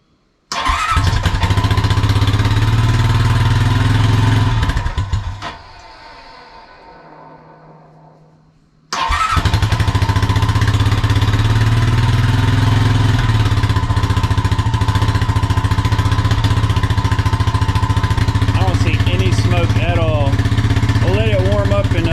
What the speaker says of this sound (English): so it's revving a little high